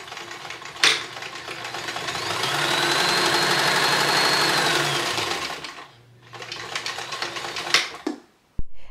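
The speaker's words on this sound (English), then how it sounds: "Sew the piece that connects the pin cushion to the thread catcher together with right sides facing" A sewing machine stitches fabric pin cushion pieces together, its steady motor whir rising into a sustained close hum for several seconds, easing off briefly, then resuming with a few sharp clunks.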